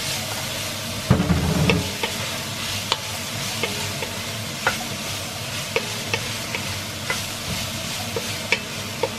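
Garlic and onion sauté in a pan for minestrone soup, a steady close sizzle with regular clicks and taps of a spatula stirring against the pan.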